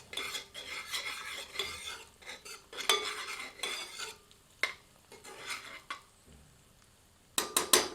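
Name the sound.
onions being stirred and sautéed in a pan over medium heat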